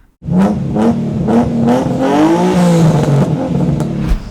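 A tuned, naturally aspirated car engine making about 360 horsepower revs hard on a dynamometer, loud and close, with repeated throttle blips climbing into a sustained high-rpm roar and no voices.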